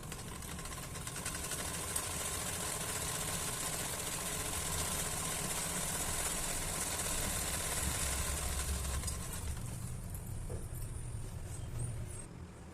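A sewing machine runs a long straight seam joining a blouse sleeve, a steady close mechanical whir that continues without pause for most of the time and then eases off near the end.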